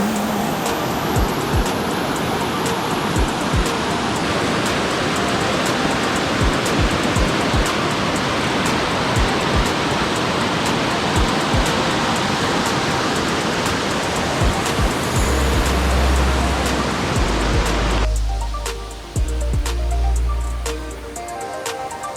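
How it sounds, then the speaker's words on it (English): Dark View Falls waterfall in St. Vincent, a steady, loud broadband rush of falling water that fills the scene throughout, with a brief low rumble near the end. "Great waterfall."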